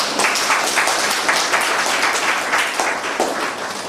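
Wedding guests applaud steadily, a dense crowd of claps at an even, fairly loud level throughout, with no voices rising above it.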